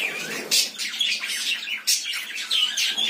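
Budgerigar chicks and parakeets chirp in a colony aviary, a close, busy chorus of overlapping high chirps and squawks with a few louder calls.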